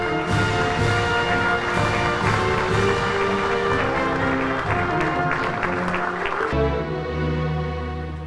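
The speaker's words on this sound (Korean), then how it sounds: "뜨거운 감사의 박수 부탁드립니다." At an Armed Forces Day ceremony, an audience gives warm applause of thanks to veterans and contributors while band music plays loudly over the clapping, the music changing abruptly near the end.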